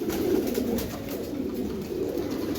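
Giribaz pigeons, a pair of Iranian birds, coo steadily at close range in low, throaty rolling tones with no voices over them.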